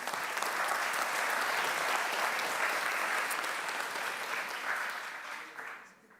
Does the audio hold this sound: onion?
no